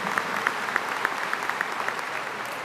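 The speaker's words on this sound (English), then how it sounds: "Let's give him, our student trustee, a round of applause" Steady applause from an audience at a university convocation, greeting the student trustee. Dense clapping runs continuously and evenly throughout, fairly close and moderately loud, with no voices over it.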